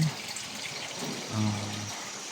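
Rainwater drips and trickles outdoors at a resthouse just after rain stops at dusk, a soft watery patter with a low background hum and a brief faint tone near the end.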